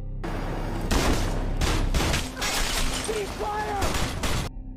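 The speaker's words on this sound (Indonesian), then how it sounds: "Namun Riley tetap menembak Garcia demi membalaskan dendamnya." Gunshots from the action film Peppermint ring out in rapid, loud volleys over a dense, busy soundtrack, with voices mixed in.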